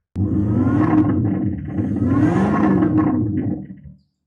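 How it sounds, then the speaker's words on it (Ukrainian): A Mercedes-Benz X-Class fitted with a Maxhaust electronic exhaust system gives a deep, throaty roar, revving continuously for about four seconds, rising and falling in pitch before cutting off abruptly. "ми встановили ось цю німецьку електронну вихлопну систему Max House. Слухаємо, як це працює."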